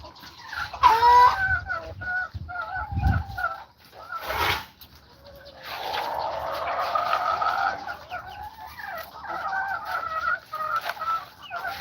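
A hen that has not hatched any chicks clucks and calls on a farm in Aklan, close and loud, with repeated throaty clucks and a drawn-out squawking call, a brief thump between them.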